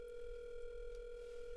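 A phone call waits to be answered. A steady electronic tone is heard alone at low volume throughout the short moment.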